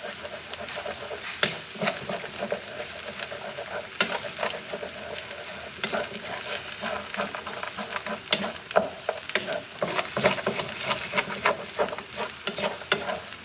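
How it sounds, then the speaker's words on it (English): Fried rice stir-fried in a hot pan with an egg mixed through, dense continuous sizzling under busy scraping and tossing of a spatula, close up, no talking. "let's go ahead and mix up that one egg"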